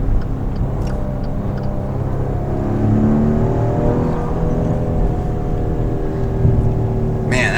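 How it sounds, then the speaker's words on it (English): A Maserati Ghibli S Q4 engine rumbles at a strong, steady idle with a smooth low throb that rises slightly as it is revved, close up and fairly loud, with a brief sharp noise at the end. "It's the roar of the engine too."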